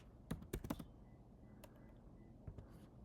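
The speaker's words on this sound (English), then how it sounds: "type in California" Typing on a computer keyboard: a quick run of crisp keystrokes, then a pause and a few scattered taps, quiet and close with no speech.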